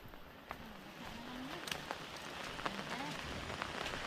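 Rain falls steadily at a nipa-thatched bahay kubo, a soft continuous hiss with occasional sharper drips, moderately close, with faint voices murmuring beneath it.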